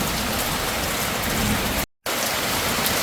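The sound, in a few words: heavy rain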